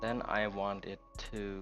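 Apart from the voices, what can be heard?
No everyday noise stands out behind the speech.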